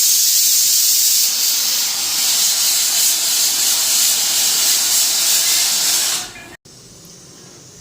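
Starch water drains off freshly cooked rice, raising a loud, continuous steamy hiss that runs evenly for about six seconds and then cuts off sharply into near quiet.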